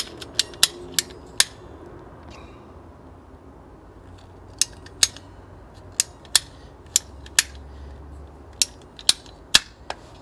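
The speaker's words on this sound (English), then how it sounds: "You can make your life even easier if you have one of these handy pipe cutters." A handheld pipe cutter works around metal conduit, giving sharp, isolated metallic clicks in uneven clusters, with a short lull between bursts and no voices.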